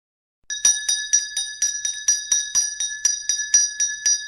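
A school bell rings for the first day of the school year, about a dozen rapid, evenly spaced metallic strikes with a bright, sustained ringing tone, loud and alone after a brief silence.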